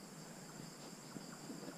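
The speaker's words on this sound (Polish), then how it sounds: "Słychać świerszcze" Steady, faint high-pitched cricket chirping fills a quiet outdoor background at Coron Island in the Philippines, with light wind noise.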